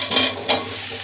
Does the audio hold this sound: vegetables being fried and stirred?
yes